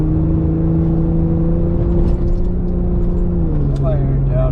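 An old Jeep Cherokee grinds through soft sand dunes, its engine droning loud and steady up close with a sustained hum that dips slightly near the end.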